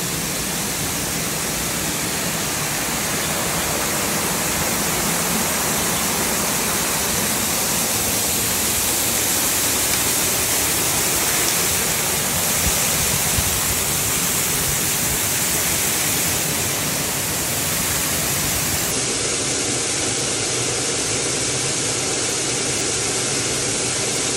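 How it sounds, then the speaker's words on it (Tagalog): A park waterfall pours continuously, a dense, loud, steady rush of falling water filling the scene without a break. "Ito po yung galing doon sa falls."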